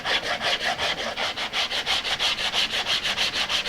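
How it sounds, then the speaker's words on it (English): Sandpaper rubs back and forth over adhesive on the body of a 1964 Gibson ES-335 style guitar in a workshop, giving steady rhythmic strokes, about four per second, close and fairly loud with no talk. "I think I might be able to sand it off."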